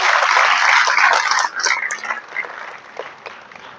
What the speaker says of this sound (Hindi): ओम जी बिरला के लिए एक बार जोरदार तालियां बजाकर स्वागत करेंगे